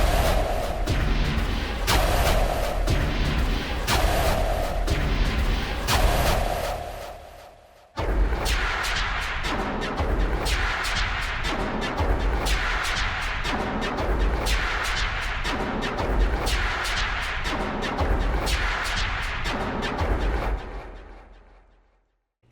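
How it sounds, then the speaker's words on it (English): Sequenced cinematic superhits from 8Dio Hybrid Tools 2 with a downward pitch envelope, loud booming impacts repeating in a steady rhythm, pausing briefly, then resuming denser before fading out. "So we're sequencing superhits here using our pitch envelope."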